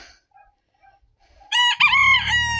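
A rooster crows once, close and loud, with a long drawn-out call, among roosters squaring up to fight. Faint chirps and quiet rustling come before it.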